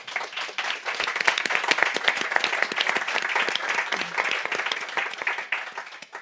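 Audience applause at a truffle forum in Teruel, a dense, steady crowd of many hands clapping for about six seconds, fairly close and with no voices over it.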